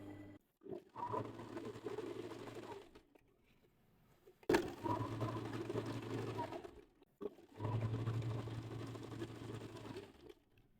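Sewing machine top stitching along the inside edge of serged elastic for swimwear, running in three steady bursts of motor hum with short pauses between them, close and moderately loud.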